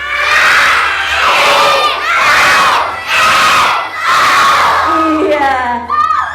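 A group of schoolchildren at an elementary school event shouts together on a count of three, several loud sustained unison calls in quick succession, close and filling the room.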